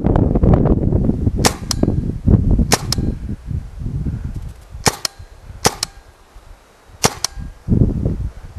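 A RAP4 T68 M4 paintball gun fires outdoors, its shots striking a tree. Several sharp cracks come one at a time across the span amid low rustling and handling noise.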